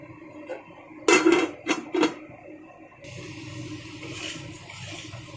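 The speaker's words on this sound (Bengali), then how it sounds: "এবার এই কাঁচা আলুগুলোকেই একটু ভালো করে কষিয়ে নেব" A metal spoon clanks sharply three or four times against a pan while raw potatoes and jackfruit seeds are stir-fried with spices, followed by a soft, steady sizzle of cooking in the pan.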